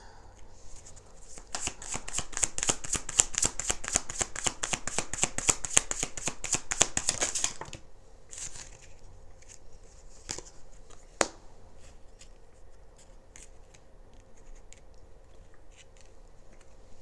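Tarot cards are riffled rapidly and loudly for about six seconds, a dense run of crisp flutters. Scattered softer card taps and slides follow in a quiet room, with no voice.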